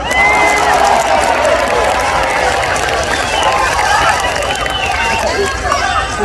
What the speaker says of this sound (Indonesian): Nah, yang terakhir harus kenceng tepuk tangannya,